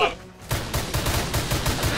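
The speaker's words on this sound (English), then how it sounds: "Their heads will explode if you keep shooting them in the head." Rapid gunfire from shooting velociraptors in the video game Orion: Prelude, a dense string of loud repeated shots and bursts after a brief quiet start, with voices mixed in.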